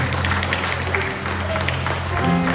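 A church congregation claps together in sustained applause during a worship service, a dense, steady patter of many hands filling the room, with a faint voice and some music underneath.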